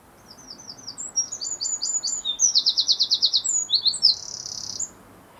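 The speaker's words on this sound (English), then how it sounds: "It's about 4 to 5 seconds long, with a quite distinctive, almost machine gun-like rapid fire segment near the end." A garden songbird sings a clear phrase of high whistled notes lasting about four seconds, building into a rapid machine-gun-like trill near the end, close and alone against faint background hiss.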